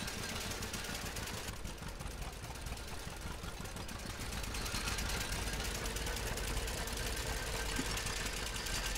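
Old John Deere Model A tractor engine in Farming Simulator 17 chugs steadily and close throughout, a continuous low knocking rumble that grows slightly louder after a few seconds, with no talk over it.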